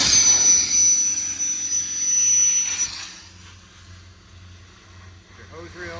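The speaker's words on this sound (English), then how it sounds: "toggle that switch to turn the compressor on" A truck-mounted air compressor runs on an IMT service truck, a 2011 Ford F550 with a crane, giving a loud steady mechanical drone at first that drops to a quieter hum partway through, with some brief rattles.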